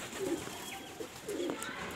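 Pigeons coo softly in two low, throaty bursts, close by, with faint background noise between them.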